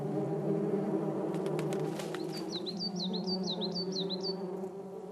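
Hornets buzz in a continuous low drone at their nest in a forest, with a run of quick high bird calls breaking in over the buzzing midway.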